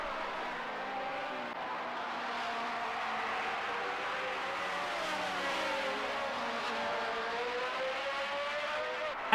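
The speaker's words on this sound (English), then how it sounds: "And Hugo Gehring, struggling to contain all 12 cylinders, producing horsepower in his beautiful Ferrari" Ferrari 12-cylinder Formula One race car from the 1978 US Grand Prix West, engine wailing at high revs in a steady, continuous drone with shifting pitch lines as cars pass, loud and unbroken throughout.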